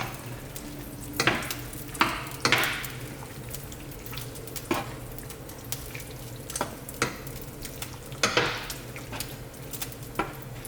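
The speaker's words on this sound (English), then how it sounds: "Then we'll add in our hamburger meat. And give it a good stir." Hamburger meat sizzles steadily in a pan while a spoon stirs it, sharp scraping clicks and knocks against the pan breaking through the constant frying hiss, close and fairly quiet.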